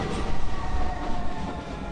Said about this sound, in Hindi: मेट्रो में आ गया हूँ